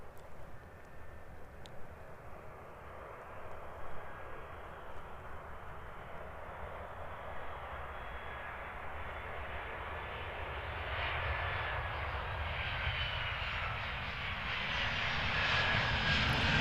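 Virgin Australia airliner landing at Queenstown Airport in the snowy alpine setting, a steady broad engine roar that swells gradually as the jet comes in, continuous and fairly distant with no talk.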